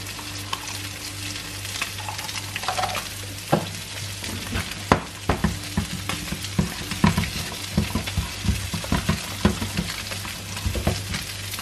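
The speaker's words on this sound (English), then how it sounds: "Just let that reduce slightly and then we'll add the cream." Wine and cream sauce bubbles and sizzles steadily in a pan, with scattered clinks and scrapes of stirring, fairly close and moderately loud, with no one talking.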